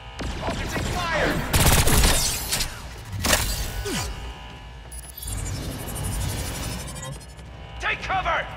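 Rocket fire and blasts in the Agents of Mayhem video game, with several loud bursting volleys and a heavy boom amid game chatter, separated by quieter stretches where voices carry on.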